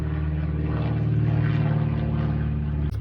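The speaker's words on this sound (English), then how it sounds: "Somebody's flying their plane today." A propeller plane drones steadily overhead, a loud, continuous low engine hum with a throbbing buzz that holds throughout before a brief knock near the end.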